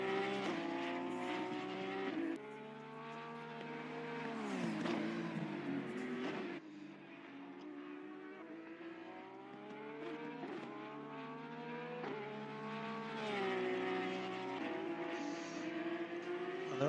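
GT race cars on the Bathurst circuit in Assetto Corsa Competizione, a steady high engine whine rising and falling through gear changes and corners, one car close and loud for the whole stretch with no talk.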